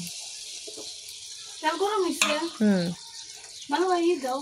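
Palm fruit fritters (taler bora) sizzle in hot oil with a steady, close hiss that runs throughout, while a voice talks intermittently over the frying.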